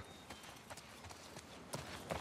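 Hooves of a horse clip-clop in a video game, a steady rhythmic trot of close, crisp footfalls over faint background noise, with a slightly stronger pair of steps near the end.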